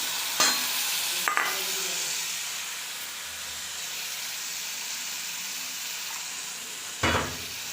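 Paste of whole cumin, ginger and garlic, ground on a grinding stone, fries in a pan for Bengali potol tel jhal, with a steady hiss under a few sharp bursts of spatula scrapes near the start and end, without talk.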